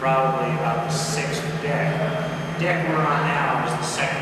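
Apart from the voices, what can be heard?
No distinct noise like a dog, phone or traffic.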